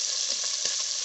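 Chicken thukpa ingredients frying in a pan, a bright continuous sizzle with small crackles and pops, close and steady over about a second.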